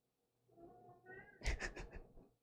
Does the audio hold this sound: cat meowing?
yes